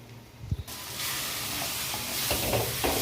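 Water spinach (kalmi shak) with prawns and onion fries in a pan, a bright sizzle rising after a soft clatter at the start, with a few stirring scrapes as the frying continues.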